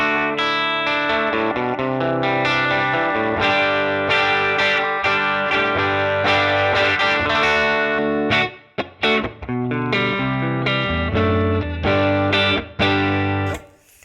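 Electric guitar through a Helix model of a 1953 Fender 5C3 Tweed amp, clean bright channel with slight breakup, strums ringing chords and picked phrases, full and close, with a couple of brief pauses.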